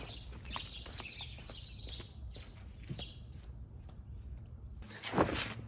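Loud birds outside chirping and calling in quick, repeated bursts, fairly close, with a short gap before a sharper burst of noise at the end.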